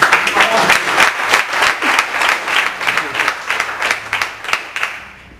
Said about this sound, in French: On va applaudir les femmes, je pense.